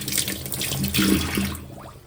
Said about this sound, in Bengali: তার আগে একটু হাতটা ধুয়ে দিই